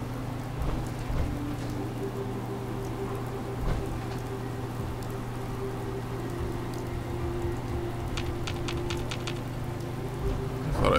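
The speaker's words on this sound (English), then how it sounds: "it was just the raindrops" Steady rain falls in Fallout 4, a constant wash of patter over a low droning hum, with a few sharper droplet ticks near the end.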